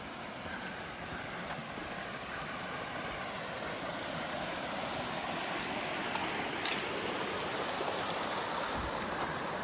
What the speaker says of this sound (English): this is Florence Creek, upstream of the falls